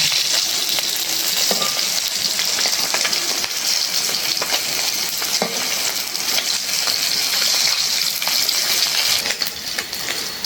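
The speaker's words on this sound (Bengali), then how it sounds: "মাছটা একটু ভালো করে ভাজলাম।" Fish, a bata, frying in hot oil crackles and sizzles loudly and continuously, with occasional sharp pops and light utensil clinks and no speech over it.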